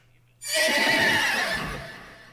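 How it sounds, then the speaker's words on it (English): A natural, lightly processed horse neigh recorded as a vocal layer for a Warframe ability sound effect. It comes in as a single loud, bright whinny that wavers and then slowly fades away, with no other sound around it. "For the horse neighing vocals, I wanted them to sound distinctly different from the Keiths, so I opted for a more natural, less processed texture."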